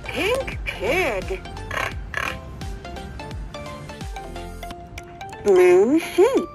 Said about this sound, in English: Pink pig.